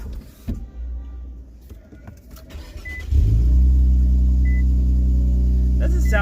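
Infiniti Q60 engine cranks and fires after a few seconds of quiet cabin clicks, then settles into a loud, steady idle hum close by, with a faint voice underneath.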